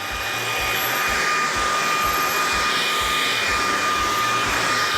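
Oraimo Ultracleaner S2 stick vacuum roaring at high suction on carpet, a loud steady whine held close throughout with a faint rhythmic pulsing underneath.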